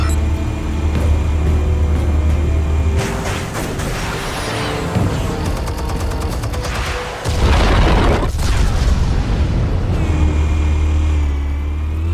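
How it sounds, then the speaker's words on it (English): Explosives armed by Batman detonate in the Telltale Batman game, a heavy, sustained rumbling boom with crackling debris that swells loudly, dips briefly, then surges again before a low engine-like drone returns. "Explosives armed. Fire when ready."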